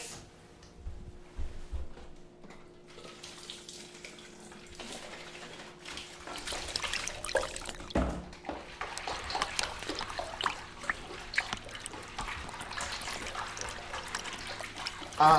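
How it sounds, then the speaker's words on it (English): Water from a kitchen tap runs in a steady, soft trickle and stream, close by, with faint clinks and handling noises of filling a container for coffee. "Just let me fill some water from the tap really quick."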